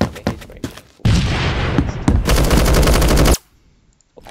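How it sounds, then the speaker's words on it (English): Gunfire in a Roblox shooter game, loud close bursts: a few quick single shots, then a sustained rapid automatic stream that cuts off abruptly, with no talk. "Your guns will be doing 32 damage a shot or whatever."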